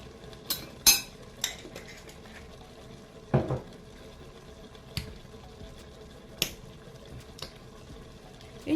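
A metal teaspoon clinks against a bowl and jar while turmeric and spices are measured for a pork dish in a Cookeo pressure cooker; several light, sharp taps spaced apart over a soft bubbling kitchen background.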